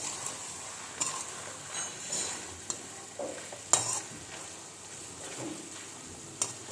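Dhekia fern greens fried with tamarind are stirred in a pan, with soft scraping and light sizzling plus a few sharp clinks of the utensil against the pan, fairly quiet with no talking.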